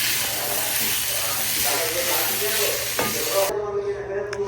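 Fajita vegetables seasoned with salt, stirred in a hot pan with a continuous sizzle and scraping strokes, heard up close. A voice talks faintly in the background.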